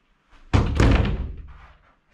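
A single soccer ball kicked hard during children's shooting practice, a sharp close thump with a short ringing tail.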